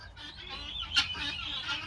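Laying hens on an East Texas homestead farm let out a few brief clucks and squawks close by over a low background, with no one speaking.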